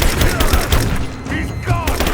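Rapid gunfire bursts crackle loud and close during a firefight in the video game Rise of the Tomb Raider, mixed with shouting voices and chaotic effects.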